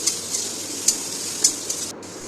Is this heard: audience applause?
no